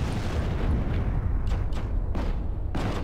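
Heavy explosive rumble of a tank shell blast in the wartime shooter Heroes & Generals, loud and continuous for several seconds with a few sharper bursts near the end, no talking.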